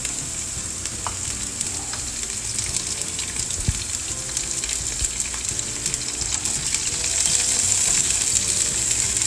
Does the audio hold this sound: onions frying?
yes